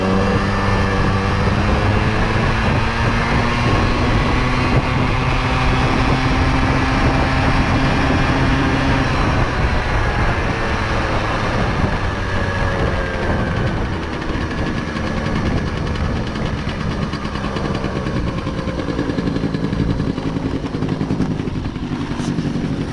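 An old vehicle pulled from a barn after fifteen years accelerates hard, its loud motorcycle-like engine roaring steadily close by with rising harmonic tones and a clattering edge, no talk over it.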